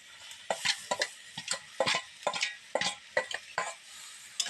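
Water and drumstick (moringa) flowers, leaves and stems go into frying spices for a village-style vegetarian curry, giving repeated stirring scrapes and a sizzling hiss in close, irregular bursts.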